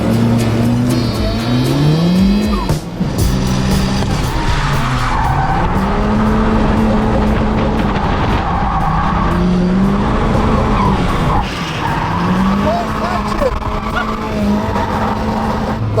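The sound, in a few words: Toyota Corolla 1.6 doing a drift lap, tire squeal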